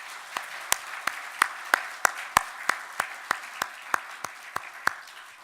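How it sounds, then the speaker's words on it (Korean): Sparse, separate claps ring out in a church service after a choir's hymn, a few hands striking at a steady rhythm for about five seconds, fairly faint, with no talking. "우리 하나님께 영광의 박수를 올려드리겠습니다"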